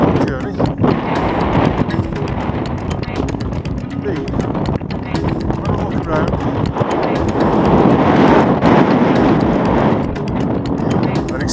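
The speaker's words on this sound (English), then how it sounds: "the wind gets a bit fierce, and I can see that happening right now" Strong midday wind sweeps across Kanchenjunga base camp in Nepal, a loud, steady roar buffeting the microphone for the whole stretch, with indistinct voices mixed underneath.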